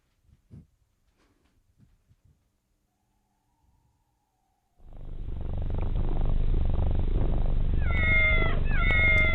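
A cat meows and purrs over a steady loud background of music, with brief faint sounds before it starts; several tonal meow-like calls near the end.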